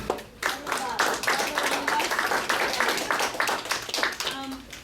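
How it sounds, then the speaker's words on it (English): A room full of people applauds the multicultural parents who organised a community parents' forum. Many hands clap steadily and loudly for several seconds, with a few young voices mixed in. "give a round of applause to the Multicultural parents who put this event on"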